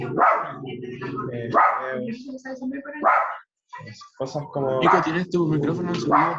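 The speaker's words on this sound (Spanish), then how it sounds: "De fondo se escucha mi perrito." A small pet dog barks and yips in the background of an online class, short sharp bursts repeatedly under someone speaking Spanish.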